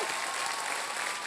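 A game show studio audience bursts into brief, steady applause, full crowd clapping filling the moment at an even level.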